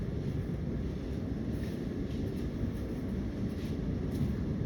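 Interior of a Melbourne metro train heading for East Pakenham through the metro tunnel, a steady loud low rumble and roar of the moving carriage with faint higher hiss throughout.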